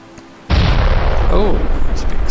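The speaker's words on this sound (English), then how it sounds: "Oh, there's a big explosion." A big explosion in the video game Space Station 13 bursts in suddenly, a loud booming roar that cuts in and rumbles on steadily, with a voice briefly heard under it.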